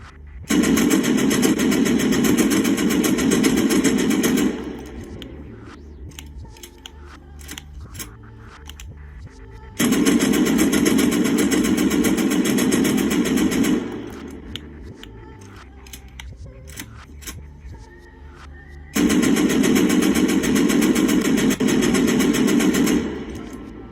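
Full-magazine bursts of automatic gunfire in the Rust console video game, three sustained loud volleys of rapid shots separated by quieter pauses with faint clicking and reloading sounds.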